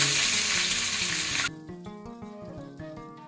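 Curry leaves dropped into hot oil already crackling with mustard seeds and dried red chillies, tempering a chutney: a loud, dense sizzle that cuts off sharply partway, leaving a quieter, sputtering crackle.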